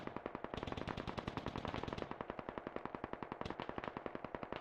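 A BTR armoured vehicle in the video game Squad fires a long automatic burst of rapid, evenly spaced shots, loud and steady for several seconds.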